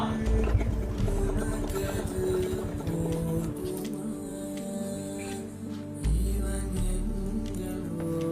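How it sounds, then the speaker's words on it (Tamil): A vehicle arrives with a close, continuous low engine drone and rumble that shifts in pitch as it pulls in, with a brief surge near the end. "வண்டி சவுண்ட் கேக்குதுமா"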